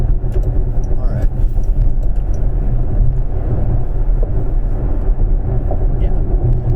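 Jaguar I-Pace electric car on the move, giving a steady low cabin rumble of road and motor noise that holds at an even level throughout with no pauses.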